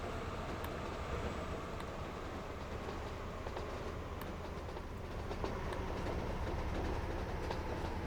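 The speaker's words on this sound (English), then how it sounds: "Oh, the oil train's coming in." Oil train arriving in the game Transport Fever 2, a continuous rumbling rail roll with faint clickety-clack and occasional metallic clinks, steady and moderately loud.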